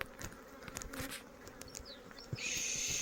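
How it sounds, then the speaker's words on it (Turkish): Honeybees buzz steadily at an open hive while a swarm is shaken into it, a continuous near drone with occasional higher whines and a louder buzz swelling toward the end. "yukarıdaki arımızı kalan arılarımızı tekrar silkip buradaki arımızın içine bırakabiliriz"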